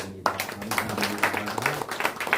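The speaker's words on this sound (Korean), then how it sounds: "박수 한번 드립니다" Brief scattered hand clapping from a church congregation at a Korean summer retreat gathering, a small group clapping unevenly with faint murmur underneath.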